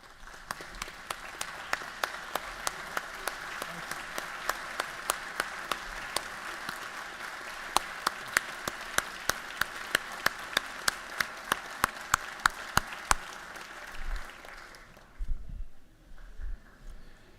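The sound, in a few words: Georgia House members giving a round of applause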